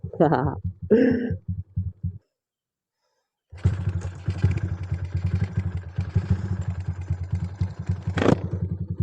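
A Honda Supra X 155cc motorcycle on a test ride, its engine running and pulsing steadily up close after a short pause, with brief speech at the start and a short voice near the end.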